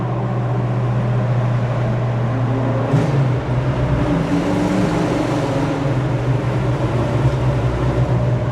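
A car in a convoy with a Ferrari and a Mustang, its engine a constant loud roar from inside the cabin, with a slight swell partway through and no talk.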